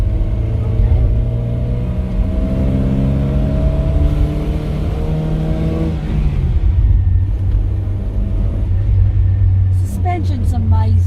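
A 1960 Lancia Appia with its small 1.1 litre 1100 engine driving on the road: steady loud engine drone heard from inside the car, pitch rising through the gears then dropping, with people talking at the end.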